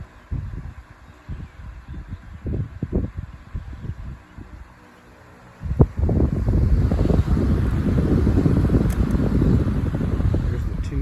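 A Midea 18-inch stand fan (Feature Comforts FS45-S5A, 2011) runs on speed two, giving a steady broadband whoosh of moving air that starts after a quieter, bumpy opening and holds constant to the end.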